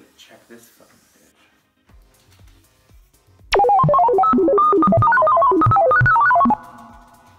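A phone ringtone plays a bright, repeating melodic pattern for about three seconds after some quiet talk and rustling, loud and close, then stops abruptly.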